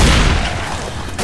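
Gunfire in the video game Left 4 Dead, a loud, booming burst of shots crowding together with heavy low rumble, lasting about a second with no speech over it.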